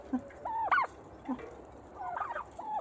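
Turkeys gobbling outdoors on a village farm, several short warbling calls repeating close by over quiet background.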